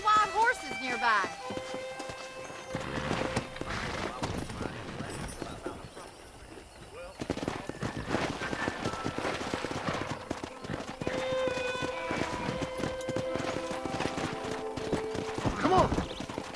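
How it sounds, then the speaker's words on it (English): Rapid clip-clop of hooves from a pack of wild horses galloping over ground in Red Dead Redemption, with an occasional whinny and steady background music throughout. "there's a pack of wild horses nearby"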